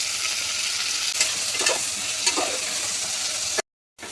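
Steady, loud sizzling of onions, tomato and liver frying in a pan, with a few stirring scrapes and clinks before a brief cut to silence near the end.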